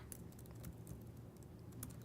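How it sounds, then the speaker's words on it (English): Keystrokes on a computer keyboard while someone writes code, a quick run of light, close clicks tapping along at an uneven pace with no talking. "so let me just type this out."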